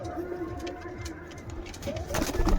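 A lakka pigeon coos in soft, low, repeated throaty phrases close by, over a faint background hum and a brief rustle near the end.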